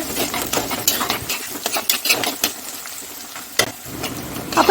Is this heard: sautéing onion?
yes